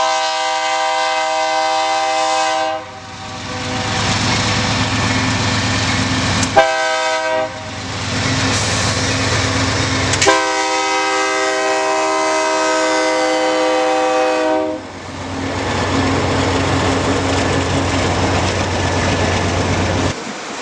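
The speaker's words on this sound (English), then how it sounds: "to catch a very unusual maintenance train" Unusual maintenance train rolling by with repeated long, loud horn blasts, a chord of tones held for several seconds each over the steady rumble and clatter of rail wheels.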